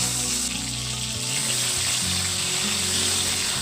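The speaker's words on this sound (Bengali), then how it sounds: "পটলগুলোকে ছাল ছাড়িয়ে নিয়ে লবণ ও হলুদ মাখিয়ে গরম তেলে এদিক ওদিক করে ভালোভাবে ভেজে তুলে নিতে হবে" Peeled pointed gourd coated in salt and turmeric frying in hot oil, a loud dense continuous sizzle close up, with no voices.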